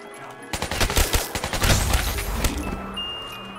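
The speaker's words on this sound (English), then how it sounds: "So many bullets, so little time." Rapid gunfire in Call of Duty Zombies Chronicles on the Shi No Numa map, starting abruptly as a loud, close burst of repeated shots, then trailing off into a fading rumble with a faint high tone.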